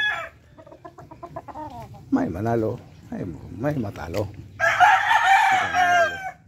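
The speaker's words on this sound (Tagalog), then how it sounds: "Mistiso lang ito siguro yung manok ko ito" Backyard chickens and a rooster cluck repeatedly while someone talks over them, then a loud crow rings out near the end, close and clear.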